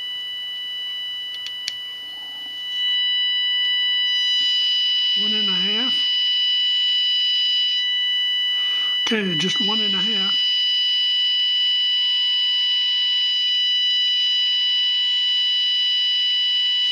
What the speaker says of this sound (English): Let's turn on the oscillator and turn on the modulation. And you can hear it.